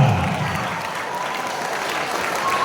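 Audience applause at a high school talk show, a dense, steady wash of clapping that holds at an even loudness for the whole stretch.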